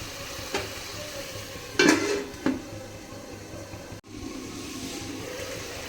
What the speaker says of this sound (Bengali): জল দেওয়ার পর ভালো করে মিশিয়ে ঢাকনা দিয়ে দেব